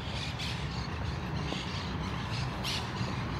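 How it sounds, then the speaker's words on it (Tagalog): Many birds squawk outdoors near the Museo del Prado in Madrid, several harsh calls at a moderate distance over steady background noise. "Daming ibon."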